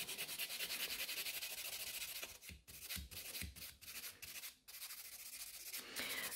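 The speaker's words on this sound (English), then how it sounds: "I'm just smoothing the entire nail." Gel nail extension being filed smooth, a continuous fine rasping rub with short pauses and repeated strokes, close up and quiet, no talk.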